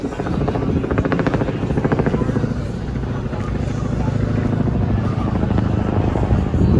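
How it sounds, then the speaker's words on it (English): A helicopter's rotor chops steadily and loudly nearby, a continuous throbbing drone with people talking underneath. "Helicopter आयो guys."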